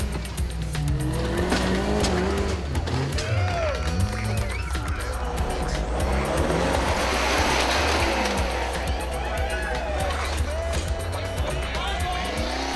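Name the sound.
4WD vehicle crawling over rocks in competition stage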